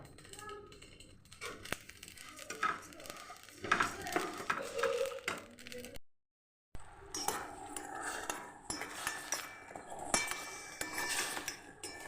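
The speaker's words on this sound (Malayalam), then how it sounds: "ശർക്കര ഇട്ട് നമുക്ക് ഉരുക്കിയെടുക്കാം കേട്ടോ" Jaggery melts in a little water in a pan while a spoon stirs and clinks against the metal in irregular, close scrapes and taps. A brief silent gap falls midway, then the clattering resumes, somewhat busier.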